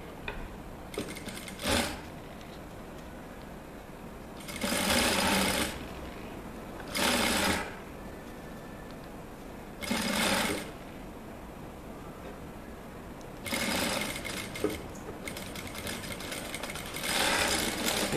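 An electric sewing machine stitches a shirt in several short bursts of fast whirring, each a second or so long, separated by quiet pauses and light handling sounds.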